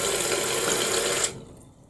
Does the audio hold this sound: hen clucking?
no